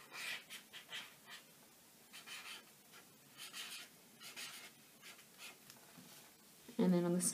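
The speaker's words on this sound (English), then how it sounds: "And then I'm gonna write with it" A pen writes on a handmade birthday card, soft repeated scratching strokes close up, with a louder noise at the very end.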